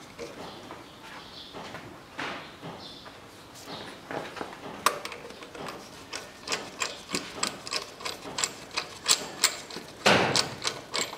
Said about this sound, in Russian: Откручиваем шкив.